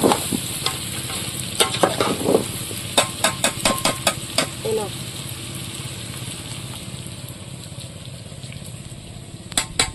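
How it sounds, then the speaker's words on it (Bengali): Country chicken is sautéed in a pan with cumin paste and whole garlic, giving a loud, continuous sizzle broken by rhythmic clanks and scrapes of a spatula stirring against the pan. "জিরে বাটা দিয়ে আর একটু কষিয়ে নেবো।"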